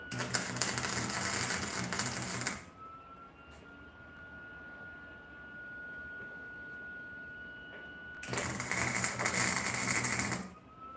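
Flux core arc welding on metal crackles and buzzes loudly in two bursts, one at the start and one near the end, with a quieter stretch of faint hum and a thin whine in between.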